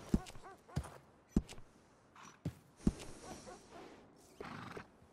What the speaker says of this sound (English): That horse doing all right?